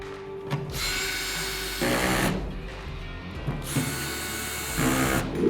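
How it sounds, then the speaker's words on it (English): A power drill whirs in repeated bursts, spinning up and stopping several times as bolts are driven in while assembling a truck-bed drawer system, close and loud with no speech. "We can come back later and we'll tighten them down with the drill."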